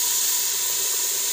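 Water poured into hot semolina roasted in ghee while making halwa in a village kitchen, giving a loud, steady steaming hiss and sizzle that fills the whole moment without a break.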